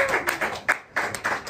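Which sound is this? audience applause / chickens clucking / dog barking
audience applause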